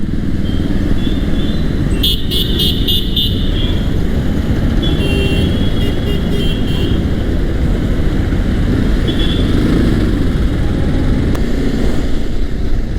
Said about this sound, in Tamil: இந்த அளவுக்கு டிராஃபிக் ஜாம்.